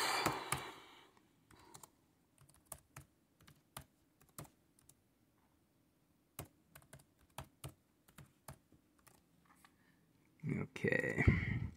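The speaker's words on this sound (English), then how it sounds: "More one-handed typing here" Typing on a computer keyboard comes through as scattered bursts of crisp, close key clicks with quiet gaps between, ending in a short stretch of talking.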